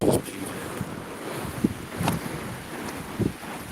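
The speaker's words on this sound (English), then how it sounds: "that ocean sound" Ocean waves on a beach heard through wind buffeting the microphone, a continuous washing roar with a few brief bumps and gusts, close and moderately loud.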